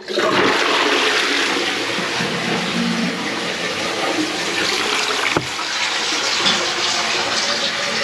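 Newly fitted toilet flushed as a test, a loud continuous rushing gush of water close by that settles into steady refilling with one sharp knock partway through.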